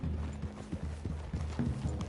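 Horse hooves clip-clop in the Red Dead video game, a quick irregular series of distinct hoof strikes on the ground with faint mechanical clinks mixed in, close and without speech.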